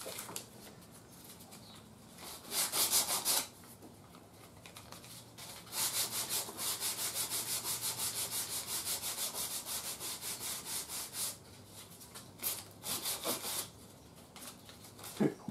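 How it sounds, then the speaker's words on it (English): Sandpaper rubbed over the wooden cabinet of an old 1940s short wave radio, giving close, steady back-and-forth scraping strokes in bursts with short pauses, no talking. "Here's a place I didn't sand."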